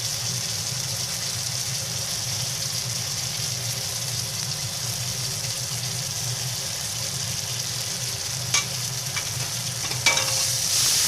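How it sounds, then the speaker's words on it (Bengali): Cumin, chilli and other spices sauté in a pan for cabbage ghonto, making a constant moderate sizzle with soft stirring, then a couple of brief clinks and scrapes near the end, with no one talking. "এবারে সব মশলাগুলো আমি ভালো করে কষিয়ে নেব।"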